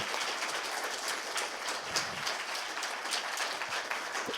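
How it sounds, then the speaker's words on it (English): An audience at a festival applauds a speaker, a steady wash of clapping and scattered cheers at moderate distance, continuous from start to finish with no talking over it. "Let's, big round of applause for Zoe."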